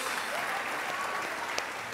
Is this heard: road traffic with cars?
no